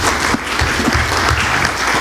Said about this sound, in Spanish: les pido a ustedes un aplauso para ellos.